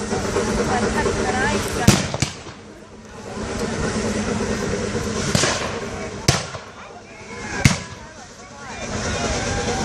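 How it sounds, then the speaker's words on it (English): Cannon fire at a Civil War battle reenactment: three sharp, loud booms spaced a few seconds apart, over a steady outdoor crowd murmur with people talking throughout. "They shot their cannon."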